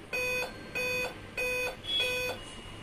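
A Dell laptop sounding a beep error code for a processor fault: four evenly spaced electronic tones, each about a third of a second, loud and clear over a quiet background.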